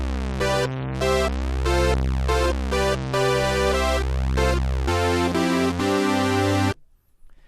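A synthesizer patch with a basic on-off amp envelope and no effects plays a sequence of sustained chords that start and stop abruptly, dry and steady, ending in silence.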